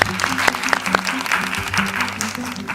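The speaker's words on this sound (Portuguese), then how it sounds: "Uma salva de palmas para elas" Audience applause welcoming speakers onto a stage at a women's networking event, a dense wash of clapping with a few sharper claps, while a voice or background chatter runs underneath.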